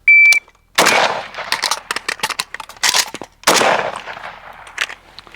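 A pistol with no flared magwell, likely a PSA, fired during a reload drill: a shot-timer beep, then a loud close run of rapid shots, a brief pause for the magazine change, and another quick burst of shots.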